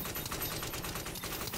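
Machine gun fire in the game The Division, a rapid continuous stream of rattling shots, muffled and fairly faint, running without pause for under two seconds.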